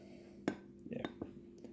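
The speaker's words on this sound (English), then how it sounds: "give that a bit more of a stir." A spoon stirs a chocolatey Frangelico and Baileys cocktail in a glass, giving a few light clinks and taps against the glass in a quiet room.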